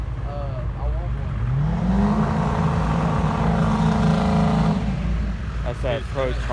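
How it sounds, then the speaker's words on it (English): A ProCharger-supercharged Ford Mustang drag car accelerates at a drag strip, its engine note rising into a sustained, loud roar that holds for a few seconds before fading, with people talking nearby throughout. "That's that pro charged Mustang."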